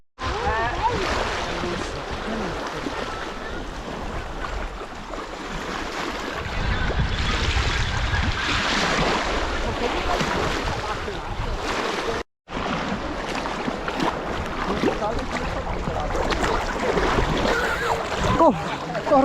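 Wind-driven waves wash and splash continuously against a mountain lake shore, with wind noise and people talking faintly in the background.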